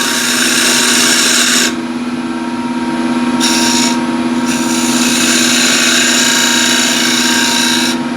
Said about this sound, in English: Again, square end scraper.